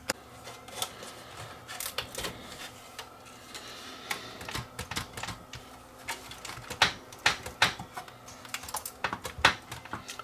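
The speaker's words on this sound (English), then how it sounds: "I'm just going to remove a few of the screws here" Screws being removed from the chassis of an Integra/Onkyo AV receiver, a close run of sharp metallic clicks and ticks in uneven bursts, growing busier toward the end, with no talking.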